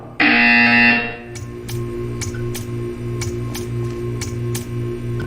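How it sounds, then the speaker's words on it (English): A loud, sustained electronic buzzer blares from a test chamber in the video game Portal 2, then cuts out about a second in, leaving a steady low hum and faint regular ticks. "You will hear a buzzer."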